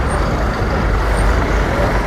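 Busy bus stand in Pulpally town, Wayanad, with a steady loud rumble of buses and road traffic close by, a brief air-brake hiss rising above the engine drone.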